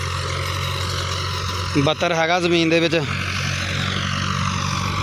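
Massey Ferguson MF 285 tractor pulling an 11-tine plough through a field, a steady low diesel drone running throughout, with someone speaking over it for about a second.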